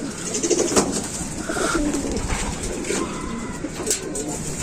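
Racing pigeons cooing close by in a loft, soft repeated throaty coos overlapping with a low rustling background and no talk.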